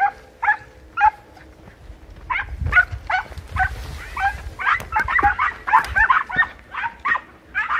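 A dog barks and whimpers outdoors in a series of short, sharp yips and whines, some close and some farther off, with quiet rustling between them.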